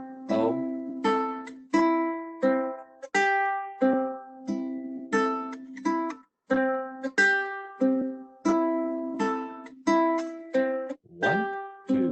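Ukulele open strings strummed with no fretting hand, a steady rhythmic series of bright chord strums repeating across the passage, close and clear with no talking.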